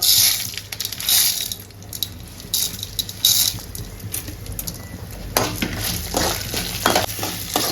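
Red chillies and urad dal being dry-roasted in a pan make close scraping and rattling as they are stirred, in irregular bursts with light crackling between.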